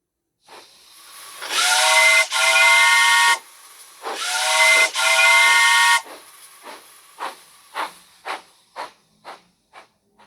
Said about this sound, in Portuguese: O apito do trem, por exemplo, é tão agudo que de longe dá para saber que ele está chegando.